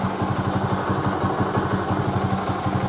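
A Bajaj Boxer motorcycle engine runs on the move after carburetor needle adjustment, giving a steady, dense chugging drone with a fast regular pulse and rushing wind noise throughout, loud and close with no talking.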